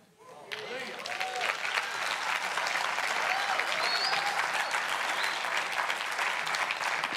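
An audience claps for its pastors during a church talk, a dense, sustained round of applause that swells quickly after a brief quiet start and holds steady and loud throughout.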